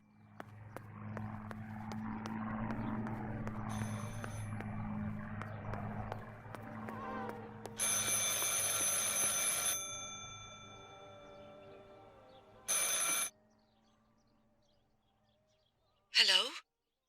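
A telephone rings in the video game Martha Is Dead, two loud bright bursts of ringing separated by a pause, following a stretch of low ambient rumble and faint background sound.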